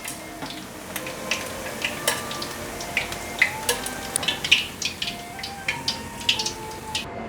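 Taro rings deep-frying in hot oil until golden, a steady bubbling hiss broken by many sharp pops and crackles scattered throughout, close and moderately loud with no voices.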